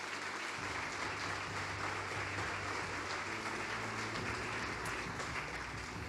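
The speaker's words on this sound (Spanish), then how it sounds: "¿Cuánto le aplauden a la presencia de Dios?" A church congregation applauds during a sermon, dense continuous clapping from a large crowd, even and sustained, heard from some distance.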